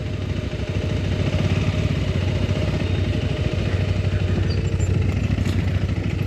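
A KTM 390 Adventure R single-cylinder engine idles steadily and loudly up close, a constant low throbbing rumble with mechanical clatter and no talk.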